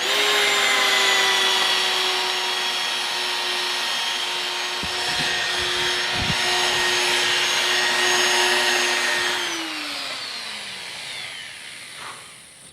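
A polishing machine whines steadily at just over speed 4 while it works a faded, oxidized car headlight, a high constant motor tone with a soft rubbing undertone that drops in pitch as it winds down near the end.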